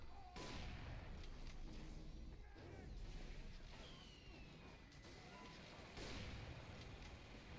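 Gunfire and battle noise from a Team Fortress 2 match, a faint, dense mix of shots, bangs and crashes running through the whole stretch with a few louder bursts.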